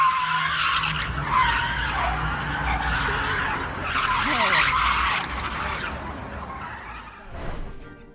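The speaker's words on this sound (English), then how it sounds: "This driver loses control of their car and goes skidding and swerving down the street." A car loses control on a street, its tires screeching in long, wavering squeals as it skids and swerves, with engine noise underneath and a sharp burst near the end.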